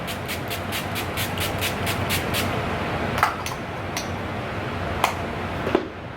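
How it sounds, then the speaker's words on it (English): Makeup setting spray pumped onto a face, a quick run of about a dozen rapid, evenly spaced spritzes followed by a few separate sprays with pauses between them, close and crisp over a faint background hiss. "I'm going to go ahead and set my face with this setting spray."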